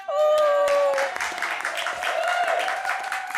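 Studio audience at a ballroom dance show applauding, a dense wash of clapping that is loudest at the start and then eases, mixed with a sustained tone and a few vocal cheers and hoots.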